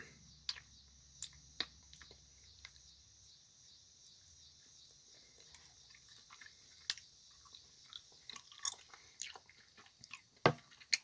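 A piece of 1950s-style candy being chewed, soft close clicks and crunches spaced irregularly, faint and growing slightly busier toward the end, with no talk.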